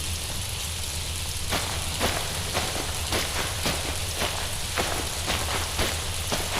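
Heavy rain pours steadily and loudly, a dense continuous hiss with scattered sharper drops striking a surface close by.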